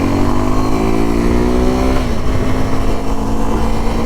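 A Suzuki V-Strom 250 SX motorcycle pulls hard in third gear, its engine droning loud and close with a steadily rising pitch that dips once and then carries on at speed, with no voices over it.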